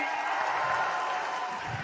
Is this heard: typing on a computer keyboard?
no